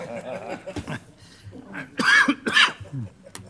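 Talking gives way to a few harsh, close coughs tangled with breathy laughter during a city council emergency special meeting, then speech resumes.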